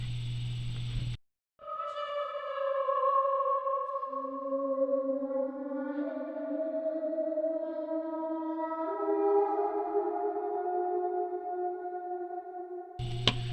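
A chopped vocal sample plays a sustained sung tone, smooth, clear and moderately loud, with layered harmonic voices that glide and shift over several seconds after a short silence, no talking.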